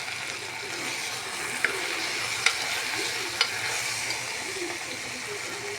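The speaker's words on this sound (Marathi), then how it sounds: "हे परतून घे।" Spices, including black masala and a little turmeric, sautéing in a pan while making khichdi with ration rice, giving a steady soft sizzle with a few light stirring clicks, close and continuous with no talking.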